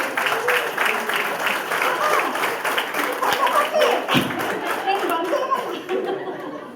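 An indoor audience at a Vestige business meeting in Warangal claps in a dense, continuous patter with some chuckles, while a speaker talks loudly over it.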